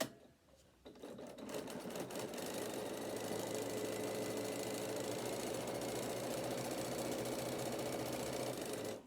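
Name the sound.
sewing machine stitching a straight edge on a bag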